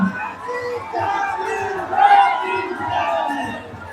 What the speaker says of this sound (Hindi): जय भीम के नारों से जंतर मंतर पर की आवाजें पटी हुई हैं